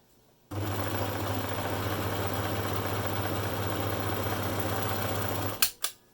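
An overlocker runs steadily for about five seconds, stitching along the sides of a sewn fabric face mask with a strong low hum and dense mechanical buzz, then stops abruptly, followed by a couple of short clicks.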